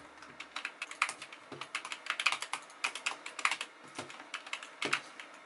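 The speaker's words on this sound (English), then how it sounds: "It's like so easy to click the buttons." Rapid clicks from a Glorious Model D gaming mouse, light sharp taps in irregular bursts, close and clear with no talk.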